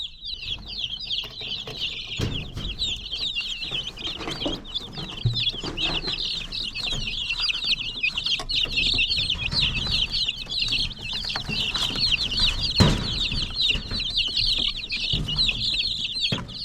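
Flock of young chickens clucking and chirping steadily inside a heated brooder, a dense continuous chatter of many birds close by, with occasional flapping and rustling.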